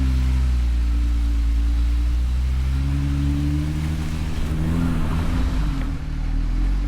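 Off-road vehicle climbing a small rock on a Moab trail in two-wheel drive, its engine a steady, close, low rumble throughout with a slight rise in effort near the end.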